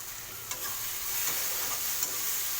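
Bitter gourd with chopped coriander is stirred in a frying pan, giving a soft, steady sizzle with a few light scrapes of the spatula, fairly quiet and close, with no voices.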